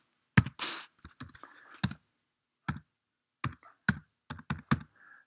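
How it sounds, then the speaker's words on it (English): Typing on a computer keyboard to enter an equation into GeoGebra: close, crisp keystrokes in irregular bursts and pauses, heard alone in a quiet room. "So I'm going to type that in exactly as it appears."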